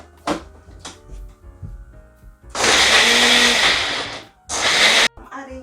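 Kitchen blender whirring as it purées ingredients with a little water for Ghanaian beans stew, a loud steady burst of about two and a half seconds, then a short pause and a second brief pulse, with knocks and clatter before it.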